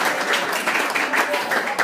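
An audience at a bushfire fundraiser evening applauds a singer and an auctioneer, with steady, dense clapping held at an even level throughout the short burst.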